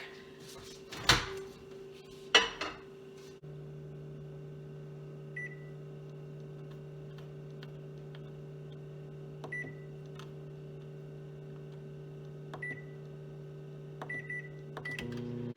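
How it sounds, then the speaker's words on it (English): A microwave oven door thuds shut and a steady low hum starts up, running continuously with faint mechanical ticks and a few brief beeps. "Put it in the microwave."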